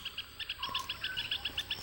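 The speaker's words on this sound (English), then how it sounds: "the twittering of birds" Small birds twitter in quick, high repeated chirps, a rapid bright series close by over a quiet background.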